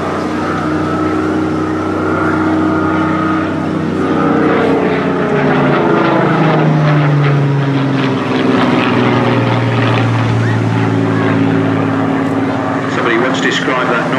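Rolls-Royce Merlin 27.5-litre V12 aero engine, as fitted to the Spitfire and Lancaster, droning loudly and continuously at an airshow, with a deep, steady propeller roar that shifts in pitch as the aircraft passes, under an announcer talking.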